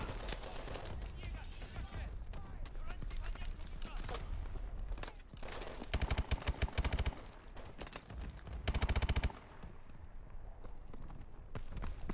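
Gunfire in the video game Call of Duty Advanced Warfare, rapid bursts and fusillades of shots of varying loudness with sharp impacts, continuous through the passage, with players talking over it.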